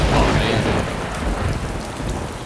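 Thunderstorm in the video game DayZ: steady heavy rain hisses throughout while a deep rumble of thunder rolls underneath, loud and continuous, with no talk.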